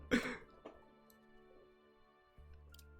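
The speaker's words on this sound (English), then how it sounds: "I can hear coughing now." A single sharp cough or throat clear comes through a live-stream microphone during a rally racing game session, followed by a fainter second sound and then low background hum.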